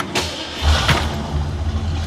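A 1965 Ford Galaxie 500 convertible with a 289 cubic inch 4.7 liter V8 starts up close by, with a brief crank and then a loud, steady rumbling idle.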